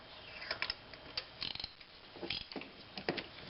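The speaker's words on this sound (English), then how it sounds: "then a 1/2-inch ratchet" A 1/2-inch ratchet fitted with an adapter onto 3/8-inch sockets, used during Toyota Corolla 1.8L oil-change maintenance, gives faint, close clicks and metallic taps in irregular clusters as it seats and engages.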